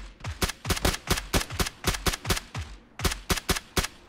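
Rapid bursts of gunfire in the battle royale game PUBG, sharp shots in quick clusters of two and three, a brief pause, then another fast string of shots, loud and close.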